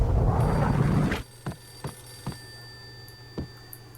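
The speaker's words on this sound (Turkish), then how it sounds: "Evet, telefon çalıyor." A telephone rings in the video game Max Payne: a noisy stretch cuts off, then four short separate rings follow at roughly half-second intervals, near and clear over a low hum.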